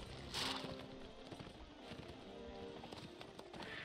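Horse hooves clip-clop in the game Mount & Blade Warband, a fairly quiet, steady run of hoof beats over a busy game background throughout.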